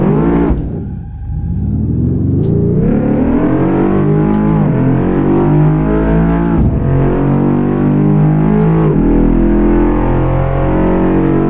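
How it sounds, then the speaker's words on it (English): A car engine in the driving game Assetto Corsa roars loudly while drifting round a corner, revving high through repeated rising gear sweeps with a dip near the start. "We'll try and drift around this corner."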